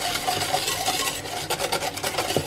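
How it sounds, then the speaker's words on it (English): Egg yolks being whisked in a bowl with a small wire whisk: a steady, close scraping rasp with quick rhythmic strokes that grow more distinct toward the end. "I'm just going to use a little wire whisk to whisk them together."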